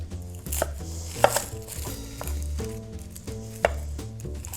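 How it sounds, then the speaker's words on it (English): A whole onion being chopped with a knife on a cutting board, a series of close, crisp thuds in an uneven rhythm, a few hits louder than the rest, with no talking. "I'm going to chop one whole onion."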